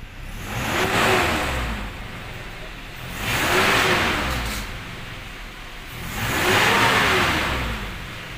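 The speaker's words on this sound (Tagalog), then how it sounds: "Toyota Fortuner po ito. 2TR ang makina. Gasoline." A Toyota Fortuner's 2TR gasoline engine, which has white smoke and hard starting, revs up and settles three times in slow, even cycles, a steady mechanical rumble close by with no talking.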